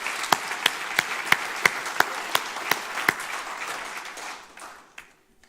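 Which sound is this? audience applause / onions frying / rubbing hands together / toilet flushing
audience applause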